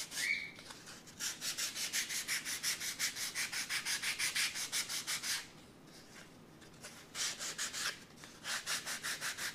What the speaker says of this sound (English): we're going to shape around the edges to get any burrs off of it to get started